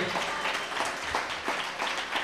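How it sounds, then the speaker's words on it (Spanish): Café audience applauding at a live comedy-music show in Rojo Café, a short burst of lively, fairly close clapping with no voices. "Un aplauso, por favor, porque por su atrevimiento."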